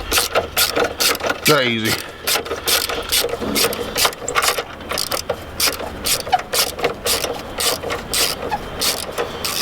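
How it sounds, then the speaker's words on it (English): A Makita cordless screwdriver works in the engine bay of an Abarth 595, giving a fast buzzing, ratcheting whir that runs nearly continuously at close range. A brief rising motor whine comes early, and a person speaks briefly over it. "our trusty Makita screwdriver."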